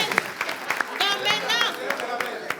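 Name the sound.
audience applauding the team's candidate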